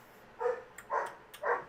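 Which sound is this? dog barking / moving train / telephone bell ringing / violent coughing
dog barking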